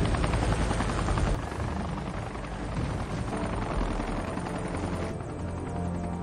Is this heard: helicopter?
yes